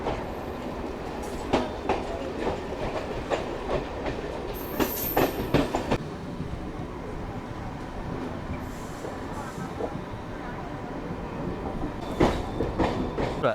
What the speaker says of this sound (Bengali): আমার ট্রেন ছেড়ে বেরিয়ে যাচ্ছে বোলপুর রেলওয়ে স্টেশন